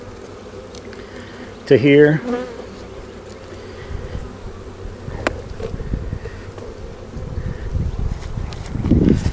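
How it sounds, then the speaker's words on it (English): Honeybees buzz steadily around an outdoor hive as frames are added, a low, close hum with brief handling noises and a short spoken phrase. "I'm going to go ahead and add some bees"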